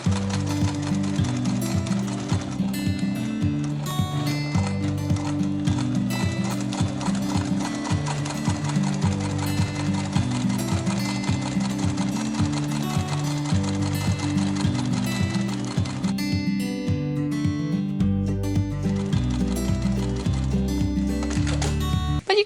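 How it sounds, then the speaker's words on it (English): A sewing machine top-stitches a decorative shoulder bag, running in a fast, steady mechanical rhythm for a long stretch and briefly changing pace near the end. "Let's top stitch that."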